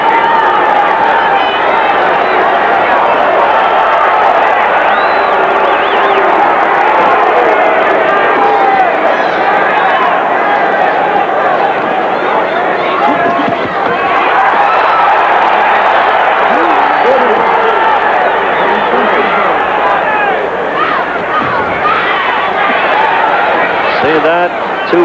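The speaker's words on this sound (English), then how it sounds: "This crowd goes crazy if there's even an appearance of connecting" Boxing crowd at the Larry Holmes vs Tex Cobb fight, 1982: dense, loud arena roar and cheering sustained throughout, with a commentator's voice running over it.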